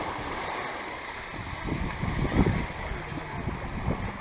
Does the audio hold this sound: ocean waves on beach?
yes